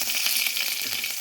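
Dried red chillies and curry leaves crackle and sizzle in hot oil in a pan, a steady, loud, close frying hiss with no talk.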